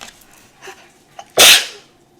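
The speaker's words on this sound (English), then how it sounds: "I'm starting to sneeze." A single sharp, loud sneeze bursts out after a couple of soft breaths, close by, then fades quickly.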